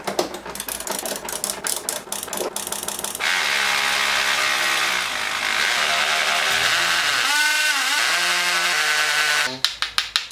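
A power tool whirs and ratchets while loosening an overlong screw on a car, loud and close, with rapid clicking bursts at start and end around a sustained buzzing run that dips and wavers.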